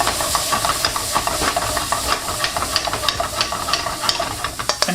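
Beef with chopped red chili and jalapenos cooking in a pan, a steady hissing sizzle with frequent light scrapes and taps as the meat is broken up.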